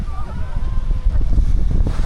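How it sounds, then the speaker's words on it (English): Steady wind buffets the microphone at a beach, a continuous low rumble with a hint of surf and water in the background, no talking. "Now it is a little bit of a windy one"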